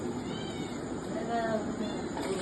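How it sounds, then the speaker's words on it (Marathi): A cat sitting up on a wall gives faint meows, heard over a steady outdoor background while a person talks nearby. "मांजर तिथे बसलेली आहे 5 मिनिटापासून वरतच आहे"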